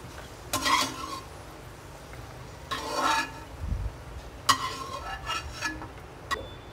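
Raisins fry in a pan for rava laddu and are stirred, with several loud metal scrapes and clinks of a spoon against the pan over a faint sizzle, no talk.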